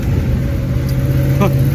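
A car moving along steadily, its engine rumbling low and continuous from start to end, with a brief rise in revs near the end. Talk can be heard over it.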